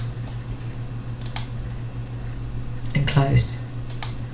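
Computer keyboard typing while entering payroll deductions in PAYE software: a few short bursts of key clicks, with a person speaking over them.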